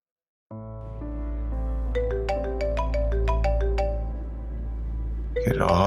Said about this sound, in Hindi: क्यों कॉल कर रही है मुझे?